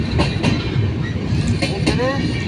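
A Surat Express train rumbles and clatters by on the rails, loud and continuous, with faint wheel squeal and voices talking over the passing cars.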